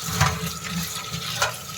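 Water splashes and runs while chukka kura greens are washed in a home kitchen, a steady close wash with two brief louder splashes.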